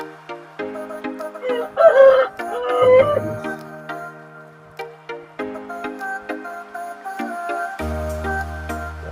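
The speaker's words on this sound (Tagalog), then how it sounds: "Mga manok natin." A rooster crows loudly once amid a yard of Japanese Shamo chickens clucking and murmuring, with steady background hum throughout.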